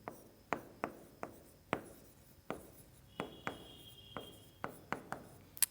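Pen or chalk writing "torch light" during a science lesson on light, a steady run of about a dozen short scratchy strokes, close and fairly quiet, with no talking.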